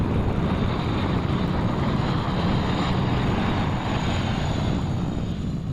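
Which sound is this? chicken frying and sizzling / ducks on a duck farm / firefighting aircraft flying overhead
firefighting aircraft flying overhead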